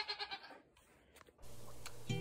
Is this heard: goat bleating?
yes